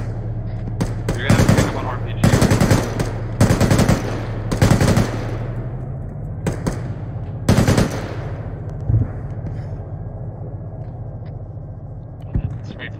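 Rifle fire in the Arma 3 video game, with a weapon that jams after every few shots: repeated short, loud bursts separated by pauses over a constant low hum, with faint background voices.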